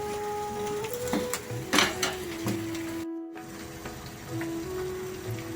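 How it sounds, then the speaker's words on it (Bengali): Sweet rice balls fry in hot oil on a gas stove, giving a soft, steady sizzle and hiss with a few brief crackles, fairly quiet and close, with no talking. "দেখো রাইস বলগুলো ঠিক এই রকম লাল লাল করে ভাজতে হবে"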